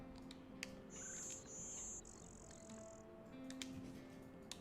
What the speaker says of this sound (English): Blue-winged warbler. This warbler especially likes to nest on the edges between forest and fields.